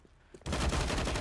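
A sudden burst of rapid gunfire in Counter-Strike: Global Offensive on the Overpass map during a match, loud and sustained after a quiet start.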